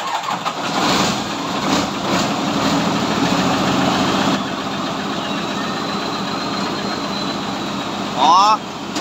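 A homemade straw baler's engine cranks and catches, then runs with a loud, steady rumble and a brief rev near the end, with voices talking over it outdoors.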